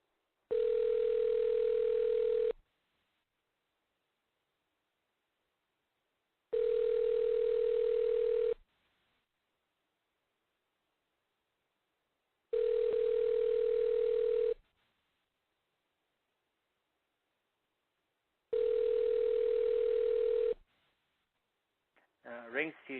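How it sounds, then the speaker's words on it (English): Four steady ring tones of an outgoing telephone call sound at even intervals with silent gaps between them, each lasting about two seconds and heard clearly on their own. "Rings a few times."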